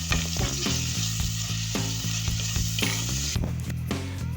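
Chopped chillies and tomato frying in a hot pan, with a continuous sizzle and frequent clattering knocks and scrapes of a utensil, while a low tonal hum runs underneath.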